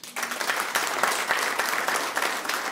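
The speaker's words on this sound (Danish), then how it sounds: "Prøv at klappe en gang" A live stand-up comedy audience bursts into dense, steady applause that holds at an even level throughout the short moment.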